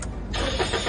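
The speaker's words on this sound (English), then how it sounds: "Start the car." A car engine cranks and catches during a repair check of a starting fault, a loud, rough mechanical churn that rises into a running roar within a second.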